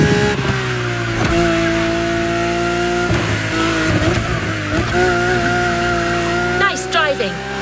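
A Lamborghini driven in The Crew Motorfest racing game, its engine holding a loud, steady high-pitched drone with gear-shift dips and a brief tire squeal near the end.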